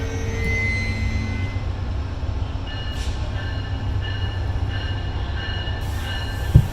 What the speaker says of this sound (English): That's an A-line train right there.